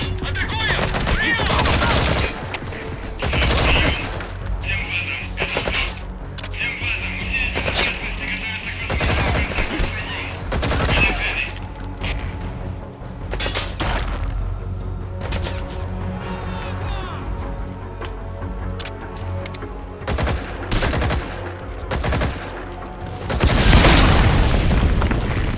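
Heavy gunfire in Metal Gear Solid 5 pours toward the player in dense bursts and booming shots, loud and continuous, with a voice talking over parts of it.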